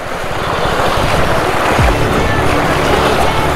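Fast-flowing river water rushes loudly and continuously around someone wading on foot through a stony crossing in Rajaji National Park, with wind buffeting the microphone.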